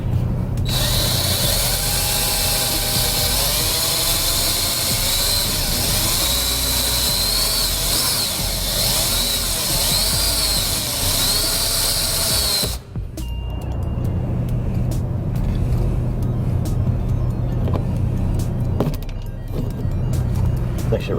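A power drill bores out rivets on a composite panel, a steady high-pitched motor whine running for about thirteen seconds before it cuts off, followed by quieter shop noise and fainter bursts of drilling.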